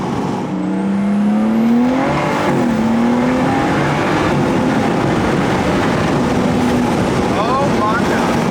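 A tuned BMW pulls away and accelerates hard, its engine note climbing steadily and loudly before easing into a sustained drone, with a voice faintly heard over it.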